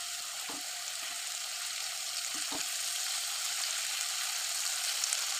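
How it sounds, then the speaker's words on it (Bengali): Paneer fries lightly with turmeric in a steady, even hiss of hot oil that runs throughout, with a couple of faint utensil taps near the start. "আমি সামান্য হলদি দিয়ে হালকা পাতলা করে ভেজে নেব।"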